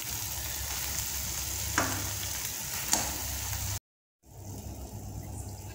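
Chicken pieces sizzle steadily in a masala mixture thickened with cornflour for chicken lollipop, crackling close up with occasional stirring clicks. The frying cuts out briefly, then resumes more quietly.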